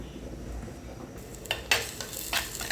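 Chopped shallots frying in coconut oil in a pan get stirred with a utensil. A low sizzle runs throughout, and sharp scraping strokes against the pan break in repeatedly during the second half.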